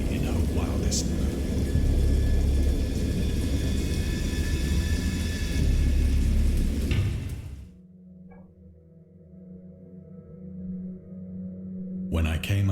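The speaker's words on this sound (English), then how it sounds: "I heard pearls of thunder and other tones which nature utters only in her wildest mood." Thunderstorm in the horror game Dagon: a heavy, loud rumbling roar of thunder and storm noise that cuts off abruptly into near silence, with a brief burst of sound returning at the end.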